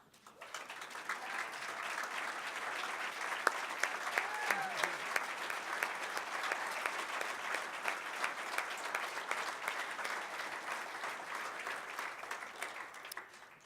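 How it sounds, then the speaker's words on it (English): Sustained applause for Hall of Famers at a college athletic induction ceremony, a broad round of clapping from a large room that rises quickly, holds steady for over ten seconds, then fades. "please stand so that we can recognize you"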